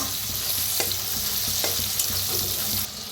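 Mixed vegetables with tomato roast in a pan over a wood-fired clay stove, a constant close sizzle broken by repeated rhythmic scrapes and knocks of the stirring spoon.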